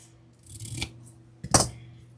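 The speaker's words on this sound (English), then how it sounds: "got my scissor here, and I don't know how much ribbon should I cut" Scissors cutting ribbon at a craft table: two quick, close snips about a second apart, the second sharper and louder, in an otherwise quiet room.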